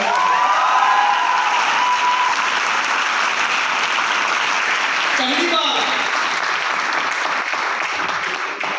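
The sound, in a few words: audience applauding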